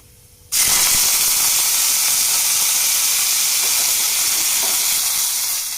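Dried red chillies and curry leaves drop into hot oil and burst into a loud, steady sizzle that holds for several seconds after a quiet start.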